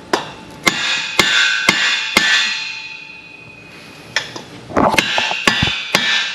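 Hammer driving dowels home during an engine top end assembly at Olsen Motorsports, about a dozen sharp close metallic strikes spaced roughly half a second apart, a brief lull, then more blows and small clanks.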